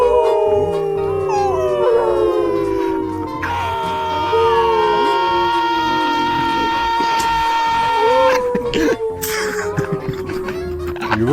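A person imitates a wolf howl in VRChat, a long, wavering, sustained howl that rises and slides in pitch, loud and close, with other voices overlapping near the end.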